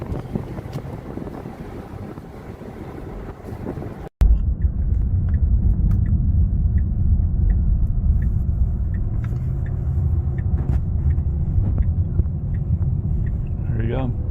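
A car engine rumbles loudly and steadily from inside the cabin with wind noise, its revs rising and settling through downshifts, a brief cut near the start, while people talk over it.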